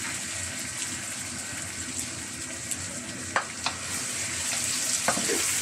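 Pork humba simmering in a pan, Bisayan style, with a steady sizzle and bubbling, punctuated by a few sharp scrapes and clicks of a spoon stirring the meat.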